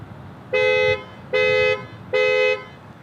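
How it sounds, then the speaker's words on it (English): A 2022 Nissan Pathfinder SL horn, set off by the key fob panic button, honks three times in an even rhythm, each blast about half a second long, loud and close with a bright harmonic tone. "So it beeps the horn. It has a pretty strong horn."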